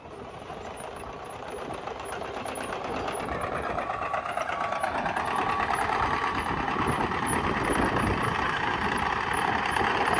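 A truck with its vacuum system running rumbles and whines steadily, building slightly in loudness and holding a dense mechanical roar throughout.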